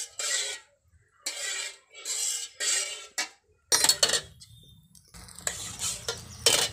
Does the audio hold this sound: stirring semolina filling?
yes